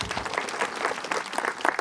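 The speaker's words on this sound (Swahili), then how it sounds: "Jipigeni makofi." An audience at a lively comedy show applauds, dense rapid clapping from many hands throughout, close and continuous with a few louder claps near the end.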